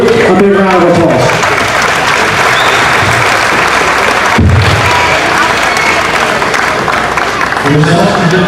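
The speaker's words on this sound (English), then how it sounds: "Give that young lady, this whole group, a big round of applause." Audience at a county fair livestock show breaks into loud, sustained clapping that fills the hall, with a voice talking over the PA at the start and end.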